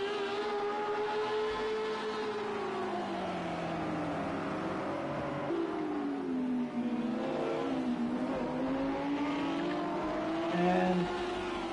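Race car engines in Project CARS 2, among them a BMW M6 GT3, revving and rising and falling in pitch as the cars accelerate and shift, loud and continuous with no talk.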